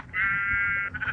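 A sheep in the Minecraft video game lets out a single drawn-out bleat, clear and steady for about a second, with faint background game ambience around it.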